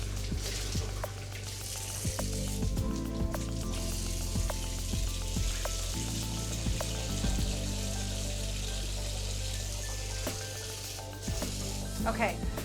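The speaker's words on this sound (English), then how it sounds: "So just wash off each leaf" Escarole leaves are washed and broken in half under running water, giving a steady splashing, trickling wash with wet rustles and crinkles, while a person talks.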